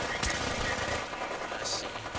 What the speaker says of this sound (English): I hear turrets.